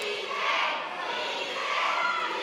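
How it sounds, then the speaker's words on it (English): A pro wrestling crowd at Roselle Park screams and chants a wrestler's name, a dense, loud roar of voices swelling and holding for a few seconds. "hearing the crowd here at Roselle Park screaming PJ's name"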